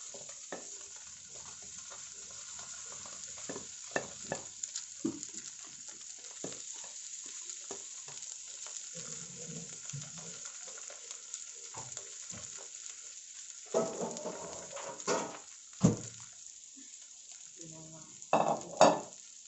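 Bangus milkfish sizzles in a hot pan and is stirred, with a steady frying hiss broken by repeated scraping strokes and a few louder clanks of a utensil against the pan, growing busier toward the end.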